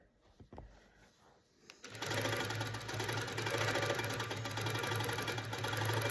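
A Handi Quilter Pro Stitcher longarm quilting machine basts fabric with a glide foot, starting after a few soft clicks and then running as a steady, fast mechanical stitching hum.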